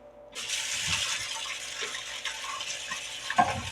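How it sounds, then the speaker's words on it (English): Tap water runs steadily into a sink as vegetables are rinsed. The water starts suddenly and keeps a continuous close hiss, with a few brief knocks near the end. "Rinse off our veg."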